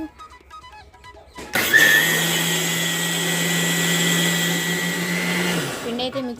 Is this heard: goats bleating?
no